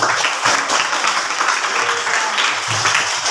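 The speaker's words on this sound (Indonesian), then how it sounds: "Tepuk tangan dulu." Schoolchildren in a classroom clap together in a lively, uneven round of applause that lasts a few seconds at close range.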